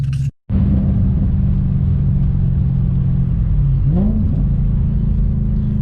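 Mercedes C63 AMG engine running close by with a deep, loud, continuous rumble, cut by a brief gap near the start, then a quick rising-and-falling rev blip partway through.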